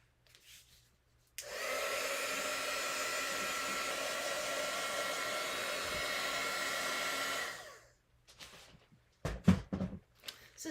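A hair dryer switches on to blow-dry a wet watercolor painting, a loud steady whoosh for about six seconds before cutting off, followed by a few soft handling knocks.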